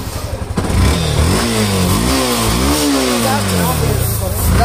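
A used 2016 Yamaha Fazer motorcycle with disc brakes idles close by, then revs up and down several times in rising and falling swells. Its engine note is loud and rough, with voices faintly beneath.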